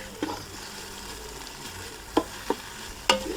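Onions cook in a Ninja Foodi pot with a soft continuous sizzle, broken by a few sharp stirring clacks of a utensil against the pot.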